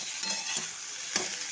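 Vegetables fry in a pan with turmeric, cumin and coriander powder and salt, a soft steady sizzle broken by a few scraping stirs, close and quiet with no talking.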